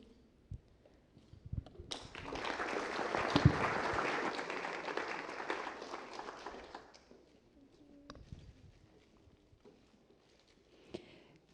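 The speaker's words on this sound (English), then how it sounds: "So if we could give everyone a big round of applause." An audience gives a round of applause after a hackathon presentation, a burst of clapping that swells for about five seconds and fades into a quiet room with scattered taps.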